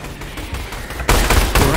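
Pistol fire erupts in the Orion: Dino Horde shooter, a loud burst of rapid shots arriving abruptly after a quieter stretch and continuing to the end, with faint talk beforehand.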